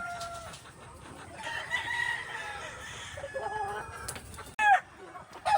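White Kelso chickens cluck steadily over a farmyard background while a rooster crows nearby, with a louder crow and sharp squawks toward the end.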